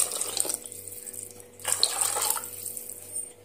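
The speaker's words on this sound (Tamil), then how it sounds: "இப்ப மிக்ஸி ஜாரை கழுவி தண்ணி உள்ள சேர்த்துக்கலாம்" Water pours from a rinsed mixer-grinder jar into a pot of curry, giving a steady splashing trickle that swells into a louder gush midway, close by and with no talk.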